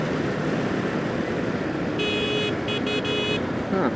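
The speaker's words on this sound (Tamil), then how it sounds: "ஹாரன் ரொம்ப மைல்டாக இருக்குது." A Jawa Perak motorcycle's mild horn sounds in a few short beeps, brief toots with small gaps between them, over steady road and engine noise.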